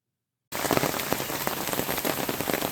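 Rain drums steadily on a tarp over a hammock at a night camp in South Louisiana, starting abruptly after a short silence and then continuing as a dense, close patter of drops.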